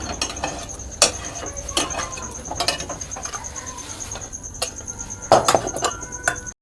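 A gas stove knob turned off after cooking a chicken filling, giving a few sharp clicks and clinks at close range over a steady kitchen hum, with no voices.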